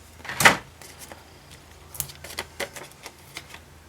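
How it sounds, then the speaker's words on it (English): A sharp snip of scissors cutting paper, followed by several lighter, irregular cutting and rustling sounds, close and fairly quiet. "I'm going to grab the scissors and cut that end."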